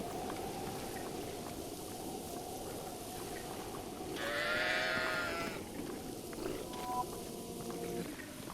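A single sheep in a video game bleats loudly in the middle, a wavering drawn-out call over a steady low background hum, followed by faint tonal beeps.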